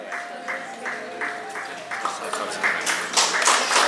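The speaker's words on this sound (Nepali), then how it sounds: "ताली लगाइदिनु न ताली गर्नु पर्यो नि सम्मान" Scattered applause from an audience at a cooperative society gathering, building from a few claps to fuller clapping over a few seconds, with speech and a steady tone underneath.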